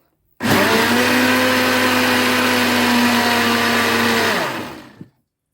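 An electric blender whirs loudly and steadily for several seconds, then winds down and stops, with no talking.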